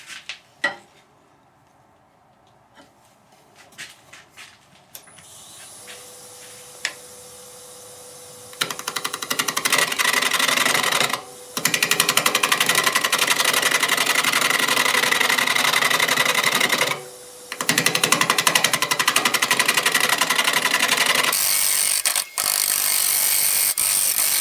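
A carbide tool cuts into a natural-edge maple burl bowl spinning on a wood lathe. After quiet faint knocks, a loud rough scraping roar takes over, broken by two brief pauses, with interrupted-cut chatter.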